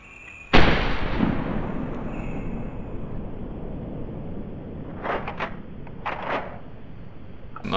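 A pump action rifle loaded with slug shells fires once in the hunting game The Hunter, a sharp loud bang that trails into a long decaying rumble, followed later by a few faint clicks.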